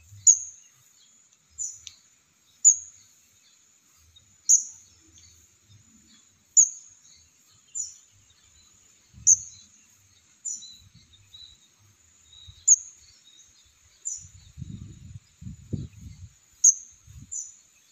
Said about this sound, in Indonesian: Kecil banget ini burung nih.